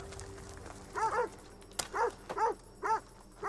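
A dog in the Assassin's Creed Odyssey game on the island of Chios barks and whimpers in five short, distinct yelps spread over a few seconds, fairly close and alone, with no talk over it.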